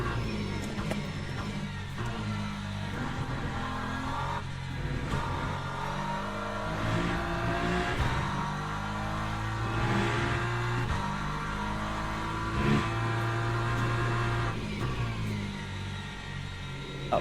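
Race car engine during a lap in the Le Mans Ultimate racing game on cold tyres, droning and revving continuously, with rising and falling pitch through gear changes and no gaps.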